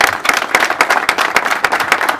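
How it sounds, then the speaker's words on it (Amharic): A crowd claps warmly and steadily for actor Surafel Teka at a car award celebration, with dense, close hand claps that continue unbroken throughout. "ተወዳጁን ተዋናይ አርቲስት ሱራፌል ተካን እስቲ ሞቅ ባለ ጭብጨባ እንኳን ደስ ያለ በሉት በድጋሚ"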